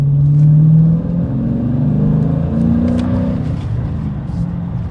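A 2021 Dodge Challenger Scat Pack with a manual transmission accelerates hard in third gear from about 25, the engine note rising steadily and loud from inside the car, with no talk over it.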